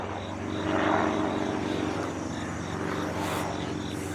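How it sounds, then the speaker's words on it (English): A helicopter passes low overhead in the woods, its steady engine and rotor drone loud and continuous throughout, with no talk. "Low flying helicopter."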